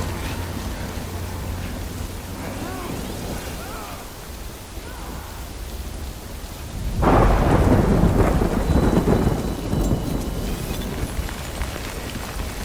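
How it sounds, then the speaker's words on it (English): Rain falls steadily in a video game scene, then a loud thunder crack about midway gives way to rolling rumble over the continuing downpour. "Good thing it was raining."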